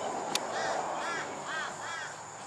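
Several crows caw in a string of harsh calls while mobbing a hawk over a beach, the calls spaced across a steady, hissing outdoor background.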